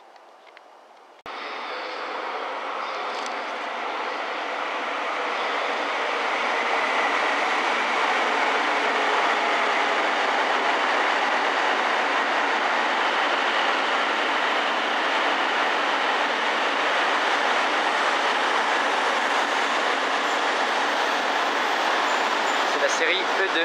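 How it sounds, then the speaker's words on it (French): A double-decker Max Toki Shinkansen runs steadily, heard from the upper deck, a low rumble and broad rushing noise building after a quiet start and holding constant for a long stretch. "Shinkansen à 2 étages. Max Toki 350, je suis 2e étage."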